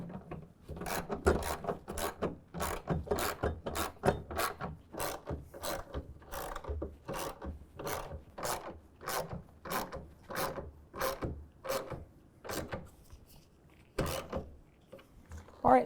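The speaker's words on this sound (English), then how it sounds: "Now we can go ahead and finish tightening down all 3 of our clamps." A hand ratchet clicks steadily in quick repeated strokes while tightening tonneau cover clamps on a pickup truck bed, each pass a crisp mechanical burst close to the microphone, with no other sound over it.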